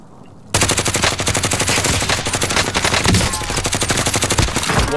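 Dense automatic gunfire from the video game Warzone, loud and continuous with rapid bursts after a brief quiet start, sustained throughout.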